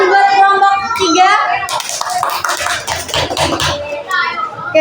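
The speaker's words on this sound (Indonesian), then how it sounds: "Tepuk tangan buat kelompok 3." A classroom of children breaks into a burst of loud, dense clapping for a student group, preceded and followed by children's chatter and voices.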